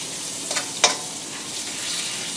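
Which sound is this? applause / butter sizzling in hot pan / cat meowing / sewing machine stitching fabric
butter sizzling in hot pan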